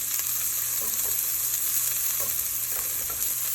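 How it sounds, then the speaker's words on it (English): Onions sauté in hot oil inside a heated rice pot, giving a steady, close hiss of frying with a few faint stirring scrapes and no voices. "I have some oil in my heated pot right here. I'm going to add a little bit of onions for some flavor. Saute this around until it gets translucent."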